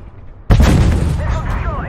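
A missile is destroyed in a mech video game with a sudden loud explosive boom after a short quiet lead-in, followed by a rumbling, crackling decay with a few rising whistling tones.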